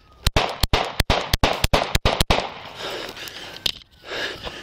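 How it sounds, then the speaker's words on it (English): Police gunshots in an outdoor alley, a rapid volley of about ten loud, sharp cracks in quick succession, then a pause and one more shot, with noisy street ambience and distant shouting in between. "Shots fired by police."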